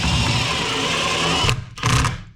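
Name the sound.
screwing something down with regular screws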